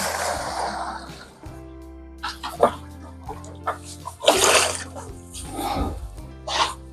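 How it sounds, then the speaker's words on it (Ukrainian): Water is poured into a container for mixing piglet starter with compound feed on a pig farm: a brief, close, splashy pour, then scattered clunks and short noisy bursts. "наливаю воды"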